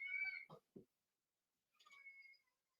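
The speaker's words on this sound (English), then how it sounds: "I have to go check up on my cat." A house cat meows in a quiet room, giving a drawn-out meow followed by two short chirps, then one more wavering meow after a pause, close and fairly soft.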